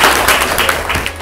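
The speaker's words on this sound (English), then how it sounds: "Let's give her another clap, please." A short burst of audience applause, dense steady clapping fairly loud and close, tapering slightly at the end.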